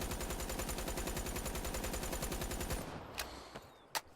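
Rapid hip-fire bursts from a Razorback gun in a video game, a fast, steady stream of close, loud shots for nearly three seconds, then a few isolated sharp clicks in near silence.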